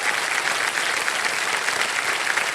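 A studio audience on KBC, Kaun Banega Crorepati, breaks into loud, steady applause, a dense, even wash of clapping that fills the whole moment without pause.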